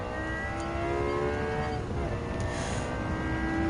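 Engine of a 2014 McLaren 650S race car in Gran Turismo 7, a steady loud high-revving drone with shifting harmonic tones, heard alone.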